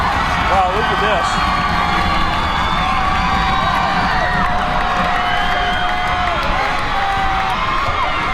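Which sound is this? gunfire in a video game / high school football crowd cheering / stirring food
high school football crowd cheering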